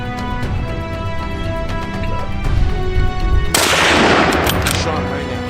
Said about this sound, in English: Shot rang out.